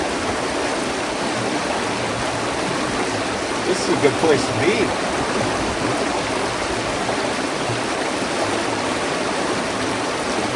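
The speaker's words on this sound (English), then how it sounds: "That running water like that." A cold spring stream flows nearby, its running water making a dense, steady rushing wash across the whole span, with a person speaking briefly over it.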